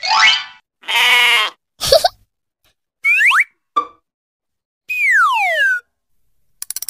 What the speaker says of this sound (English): A sheep in a sheep pen.